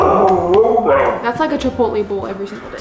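A hungry dog whines and lets out short yips under a person talking, its cries weaving through the speech at a moderate distance.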